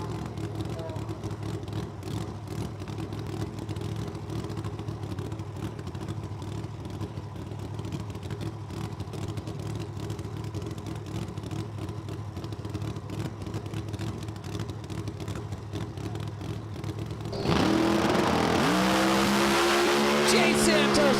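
A drag racing car makes a solo free-run pass in the left lane at Empire Dragway: a steady engine roar that swells sharply near the end into a loud, high-revving blast, with faint announcer talk throughout.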